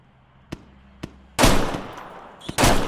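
Roblox gunfire in a South London street-war game: a couple of sharp isolated shots, then a dense, loud burst of rapid fire, a pause with another single crack, and a second heavy burst.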